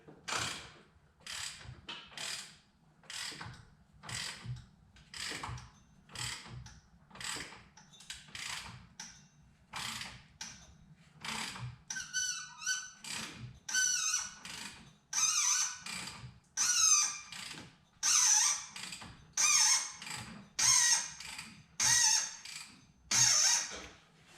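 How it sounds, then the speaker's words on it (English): A 3-jaw puller is worked against the harmonic balancer of a 2007 GT500 engine in the engine bay, making a long, regular series of sharp ratcheting clicks that grow louder and crisper toward the end. "I got my 3-jaw puller on the balancer, and we're gonna see how this goes"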